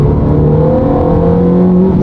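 Ferrari 458 engine pulling under hard load, a loud, close, steady drone with a rising tone that may carry the squeal of an old accessory belt, no voices.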